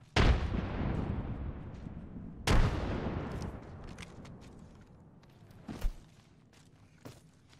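A frag grenade in the video game Apex Legends bursts with a sharp boom and a long, fading rumble, then a second blast follows a couple of seconds later, with fainter thuds trailing after.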